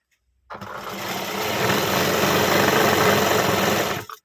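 A sewing machine runs steadily, stitching three blouse front pieces together along one edge at an even margin, with a continuous whirring hum close by and no talking.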